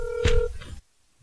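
A landline phone dials before a phone interview: a short steady touch-tone beep followed by a brief clicking burst, close and clear, then abrupt silence.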